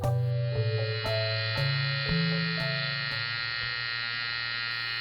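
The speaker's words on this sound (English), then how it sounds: "it's the sound of my razor." Electric razor buzzing steadily and loudly up close, a dense mechanical drone with slight shifts in pitch and a few brief clicks as it moves, with no speech.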